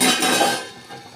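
A metal lid set down on a pot of cooking rice flour dough, giving a single short clattering clink close by, then fading quickly.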